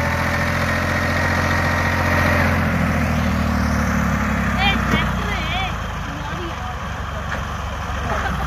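A well-kept tractor engine idles close by with a steady, low, throbbing rumble, while people talk over it and a few brief higher sounds cut through partway.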